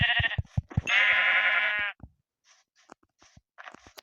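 A sheep in Minecraft gives one loud, drawn-out bleat lasting about a second, surrounded by short clicks and taps from the game.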